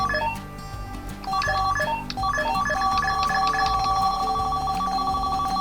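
Phone dialing tones in GTA San Andreas, a quick sequence of short, bright keypad beeps followed by steady overlapping tones, clear and alone.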